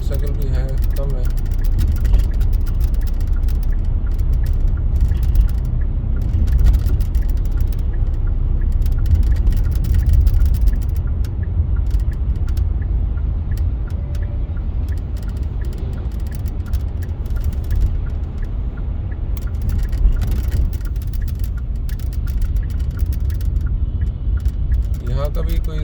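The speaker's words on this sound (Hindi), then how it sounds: "और ट्रैफिक भी हमें देखने को मिल रहा है।" Road traffic on a city street where a flyover is planned, with cars and scooters rumbling past as a continuous low engine drone; someone talks over the steady traffic noise throughout.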